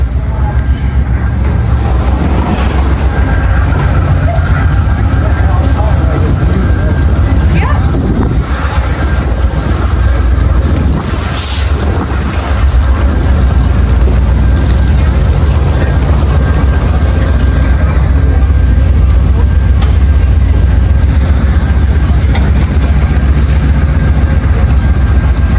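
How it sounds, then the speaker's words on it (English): Steady low rumble of a VIA Rail passenger train leaving Kingston for Toronto, rolling along the rails, continuous and fairly loud, with faint rattles and occasional higher hisses from the carriage. "On via train 47, just left the Kingston station and heading to Toronto"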